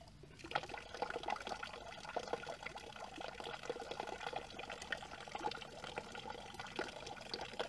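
Natural spring water pours into a container being filled for sampling, a faint steady splashing trickle with no talk.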